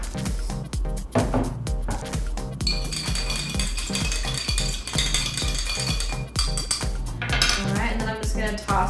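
Utensils clink and scrape against a bowl while kale salad is tossed with dressing, giving rapid, irregular metallic taps and rattles close by over a steady background beat.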